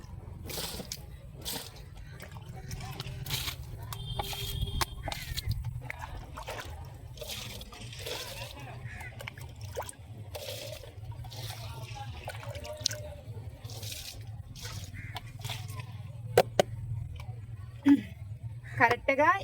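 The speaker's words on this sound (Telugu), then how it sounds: "ఆ లిక్విడ్ మొత్తాన్ని ఇరవై లీటర్ల వాటర్లో అయితే వేసేస్తున్నానండి" Liquid fertilizer splashes and trickles into a 20-litre bucket of water, mostly under someone talking, with a few sharper splashes toward the end.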